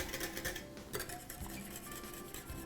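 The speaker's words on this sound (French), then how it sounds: "Puis je continue à fouetter." A whisk clinks quickly and steadily against a bowl while cream is being beaten, a soft, close, continuous metallic rattle.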